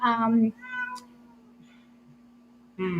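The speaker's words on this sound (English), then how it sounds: "We're getting meowed at, aren't we?" Two loud cat meows, one at the start and one at the end, with a quiet stretch and faint noises between them, heard close in a studio during a live talk show.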